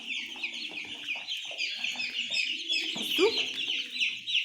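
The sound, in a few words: native chickens clucking while eating fattening feed mix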